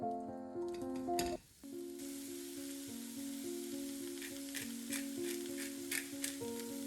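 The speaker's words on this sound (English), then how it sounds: "fry it in olive oil with a sprinkle of salt, black pepper, and paprika" Finely chopped onion frying in olive oil with salt, black pepper and paprika for potato croquettes, a soft steady sizzle with a stir or two, heard under sustained melodic background music.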